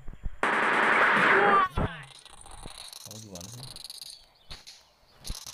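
Gunfire in the Dude Theft Wars game, a loud rapid burst of automatic shots lasting about a second near the start, followed by quieter game effects and brief talk.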